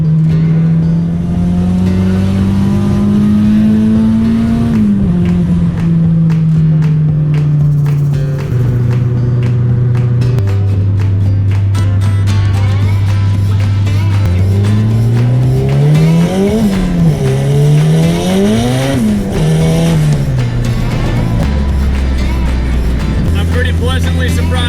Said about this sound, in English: see if it will survive one good hard first gear